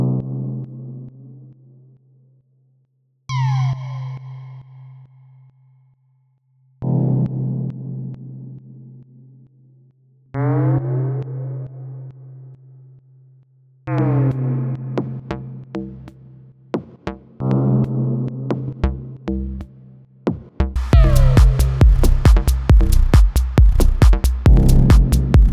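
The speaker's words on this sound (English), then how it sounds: "let's add a lot of reverb as well." Synthesizer tones with heavy reverb in repeated decaying hits, the tails washing together and growing denser, ending in a loud, noisy sustained wash with deep low rumble.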